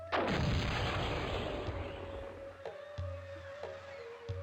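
In the video game Cossacks, a heavy artillery blast booms and rumbles away, followed by several sharper, fainter shots at uneven intervals under a low steady hum.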